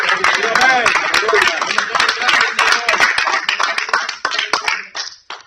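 A church congregation claps loudly and steadily throughout, a dense, fast patter of hands with voices talking and calling out over it, then tapering to a few last claps at the end.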